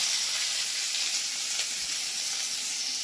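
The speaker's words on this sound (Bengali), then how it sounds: "পেঁয়াজ কুচিগুলো আমি লাল করে ভেজে নেব।" Chopped onions fry in hot oil in a pan with cardamom and cloves, giving a steady, even sizzle and hiss throughout with no talking.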